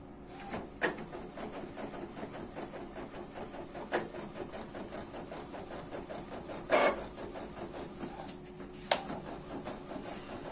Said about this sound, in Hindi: तो दोस्तों प्रिंट जो है हमारा स्टार्ट हो चुका है।